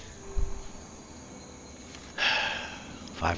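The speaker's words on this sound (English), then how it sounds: "Comes the crickets. Must be getting late." Crickets chirp in the open wasteland at dusk in Fallout 3, a faint, steady insect drone with a few brief louder bursts of game sound near the end.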